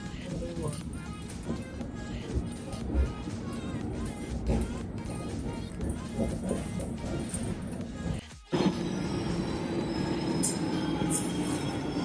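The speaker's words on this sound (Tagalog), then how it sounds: "First train is almost going home." A train rolls along the rails with a steady, dense rumble and clatter, wheels squealing faintly, continuous and close throughout before a brief dip and a harsher rush near the end.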